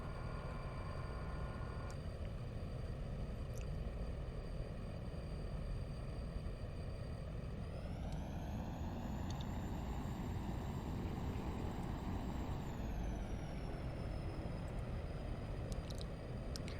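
A steady airplane engine drone runs through a flight in the X-Plane 12 simulator game, loud and constant, with a rising whine partway through as the engine note shifts, and no voices.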